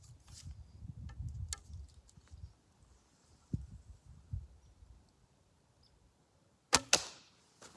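A single arrow released from a Browning Explorer recurve bow, heard as a sharp, loud snap and whoosh near the end, after quiet rustling and faint movement outdoors.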